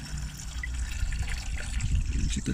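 Thin engine-flush liquid draining out of a VW Golf 4 1.9 TDI turbo diesel, a continuous close trickle and splatter of fluid with a low hum beneath it.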